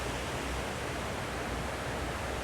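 Waterfall at the Outrigger Kona Resort beside the swimming pool, a steady, dense broadband rush of falling water that holds even and unbroken throughout, fairly near and with no voices.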